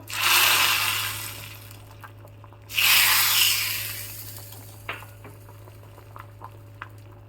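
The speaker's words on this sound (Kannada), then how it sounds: "ನೋಡಿ ಇವಾಗ ಒಂದು ಒಳ್ಳೆ ಕುದಿ ಬರ್ತಾ ಇದೆ" Kundapura Brahmin-style huli curry with jackfruit seeds bubbling in a pot, with two loud hissing surges early on, then settling into soft, scattered bubbling pops.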